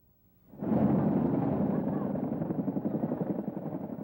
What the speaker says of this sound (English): A helicopter just like this and 3 others got very much involved in the rescue effort for the flood of 1996.